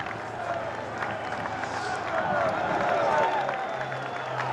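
A large crowd cheering and clapping along the roadside at the Tour de France stage 1 start in Utrecht, a steady roar of applause that swells slightly toward the end, with a commentator talking over it.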